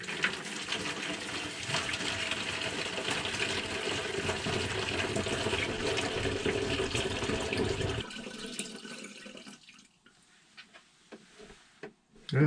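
Mixed D76 photo developer poured from a container into a jug, a continuous splashing, gurgling pour that runs steadily then tapers off into a few drips and handling noises.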